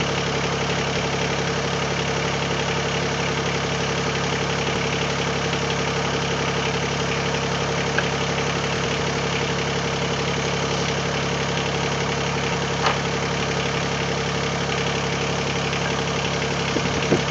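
A Mahindra eMax20s HST compact tractor with a backhoe attached idles steadily, its engine making a continuous low, even rumble with a faint rattle that barely changes throughout, and no one speaks.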